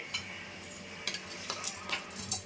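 Turmeric and salt being stirred into food in a pan: a faint, low background with several short, soft scraping strokes spaced through the stretch, one at a time, with no talking.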